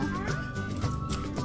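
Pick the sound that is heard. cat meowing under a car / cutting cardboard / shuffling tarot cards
cat meowing under a car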